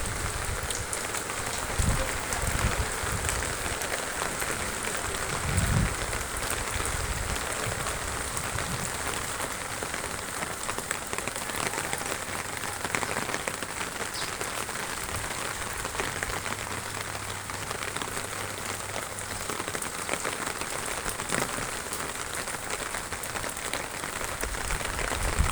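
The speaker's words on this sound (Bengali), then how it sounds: "বৃষ্টি হচ্ছে খুব সুন্দর, মাঠে বৃষ্টি।" Rain falling steadily on an open football field at a garrison ground, a dense continuous patter and hiss of drops, even and unbroken throughout with occasional low thumps, no voices.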